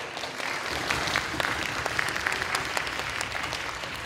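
Audience applause at the close of a secondary-school English debate final in Gwangju, a steady wash of many hands clapping for about four seconds at moderate level, with no talk over it.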